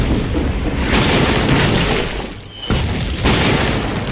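Bombing explosions in a war film, heavy booming blasts rolling one after another, loud and close, with a brief dip before another roar.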